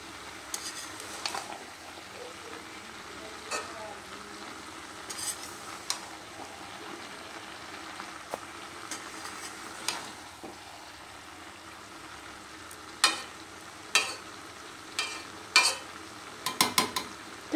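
Tomato pieces and cauliflower fry in a pan for a Bengali vegetarian cabbage-style dish, a quiet steady sizzle broken by several sharp scraping stirs that grow more frequent toward the end.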